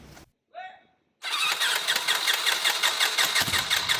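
A Cessna 120 aircraft engine cranks during a start attempt, first a brief whir and pause, then a loud, close, sustained run of rapid rhythmic chugging that carries on to the end.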